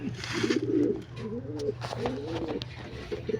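Pigeons cooing close by in a loft, several soft throaty coos in succession, with low background noise.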